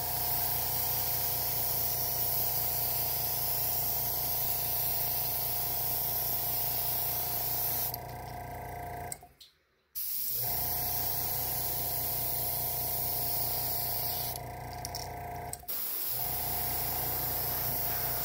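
Spray paint lays a white base coat on a crankbait fishing lure, giving a continuous, even hiss broken by two brief stops.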